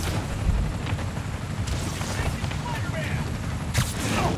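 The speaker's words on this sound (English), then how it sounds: "Need to head towards the gunfire." Gunfire in the Spider-Man Miles Morales video game during a snowy blizzard scene, heard as a steady mix of distant shots and bursts under a continuous rumble, with a few sharper cracks standing out.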